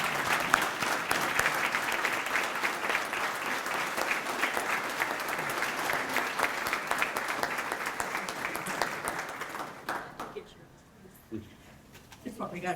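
An audience applauds as Ms. Glover, an FDC Hall of Fame inductee, is welcomed to the stage. Steady, dense clapping from a crowd lasts about ten seconds, then thins out and fades.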